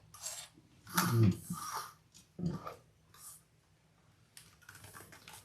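A sewing machine top stitches around a fabric crossbody bag in short, close mechanical bursts separated by brief pauses and small clicks.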